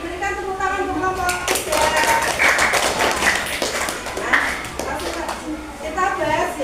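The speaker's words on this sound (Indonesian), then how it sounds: "Berikan tepuk tangan untuk kelompok." A classroom of students claps for a group after its presentation, a dense burst of hand claps running through most of the stretch while a teacher and children talk over it.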